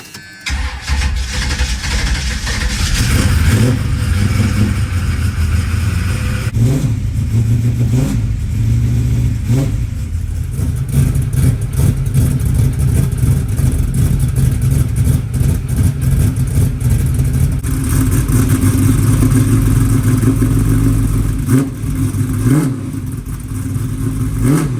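A 434ci 11:1 compression small block V8 running on E85 cranks and fires, then revs hard and repeatedly at close range, a loud continuous rumble with sharp throttle blips and no talking.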